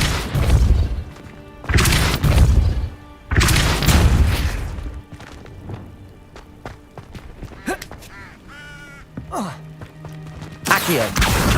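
In the game Hogwarts Legacy, Depulso spell impacts land as heavy booming blasts, several loud bursts spaced a couple of seconds apart, with smaller crashes and thumps between them.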